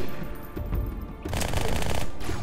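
Rapid automatic gunfire bursts in the Halo 2 video game, loud and dense with several overlapping streams of shots across a battlefield, building heavier in the second half with no speech.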